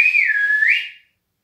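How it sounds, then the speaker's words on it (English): A single sharp, shrill whistle blast sounds for about a second, loud and close, its pitch wavering slightly before cutting off into silence. "gave 2 blasts from his whistle"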